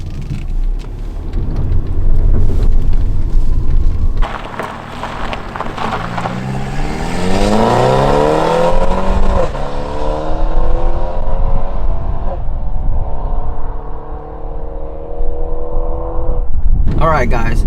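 Mercedes C300 W205 with an aftermarket downpipe in Sport Plus mode, engine revving and accelerating through rising gear pulls with a brief shift break, loud and close from inside the car, voices talking underneath.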